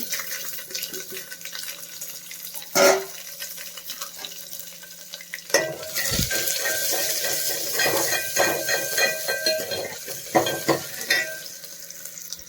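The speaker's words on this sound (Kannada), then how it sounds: "ಕರಿಬೇವಿನ ಸೊಪ್ಪು ಸಾಸಿವೆ ಎಲ್ಲ ಚಟ್ಪಟ ಅಂತಿದ್ದ ಒಂದು ಅರ್ಧ ಈರುಳ್ಳಿ ಅಷ್ಟು ಹಚ್ಕೊಂಡಿದ್ದೀನಿ ನಾನು ಇದನ್ನು ಈಗ ಹಾಕ್ಕೊತಾ ಇದ್ದೀನಿ" Chopped onion going into crackling mustard seeds and curry leaves for a one-pot saaru, with steady close sizzling, occasional clattering stirs and a loud burst midway as it hits the pan.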